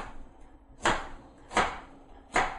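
Three sharp, evenly spaced knife chops on an onion strike a cutting board, each a crisp close thud with quiet pauses between.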